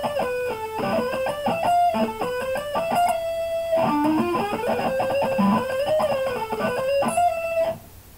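Distorted electric guitar playing a solo, fast bending and hammered lead lines with sustained held notes, loud and continuous before cutting off near the end.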